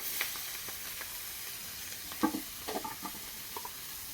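Chopped cabbage going into hot oil heavily spiced with chili and being stirred, giving a faint, soft sizzle with a few scattered stirring clicks. The sound is quiet and there is no talking.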